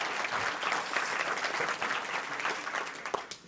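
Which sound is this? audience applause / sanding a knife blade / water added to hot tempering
audience applause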